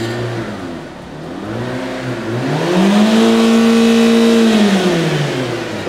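Rolls-Royce car engine revving in sport plus mode, rising in pitch as the throttle is pressed, then holding a loud, steady high drone before it eases off.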